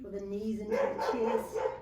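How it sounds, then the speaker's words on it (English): A pet dog barks and yips indoors during a home yoga class, a few short sharp barks breaking in over a calm instructor's voice giving directions. "apologies for the dog"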